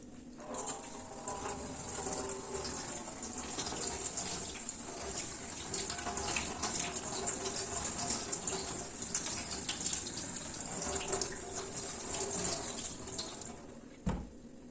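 A kitchen tap runs steadily while a pineapple is washed under it, a continuous close hiss of water with small splashing changes, ending abruptly with a knock.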